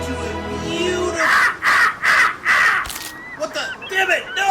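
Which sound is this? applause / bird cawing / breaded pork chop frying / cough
bird cawing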